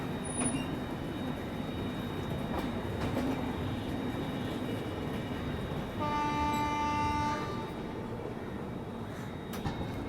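The ShivGanga Express running on rails near New Delhi, a steady, loud rumble and rattle of the moving train that continues throughout, with a brief high tonal whine partway through.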